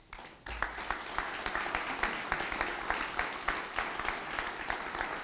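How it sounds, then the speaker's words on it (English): Steady audience applause at a community address in Winston-Salem, many hands clapping together in a sustained roar that begins abruptly and holds at an even level throughout. "please give a round of applause to what will be Access Center for Equity and Success"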